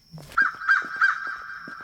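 A crow in an Exit 8-style video game, three harsh caws in quick succession, loud and close, with no one talking over them.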